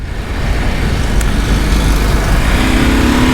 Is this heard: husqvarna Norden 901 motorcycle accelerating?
yes